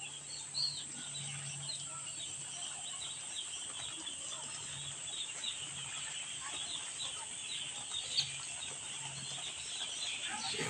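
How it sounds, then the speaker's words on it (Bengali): Two-day-old chicks on a poultry farm, kept warm under brooder lights, peep nonstop in a dense, high-pitched chorus, steady and moderately faint, with one brief louder knock near the end. "দেখুন মুরগিগুলো কেমন।"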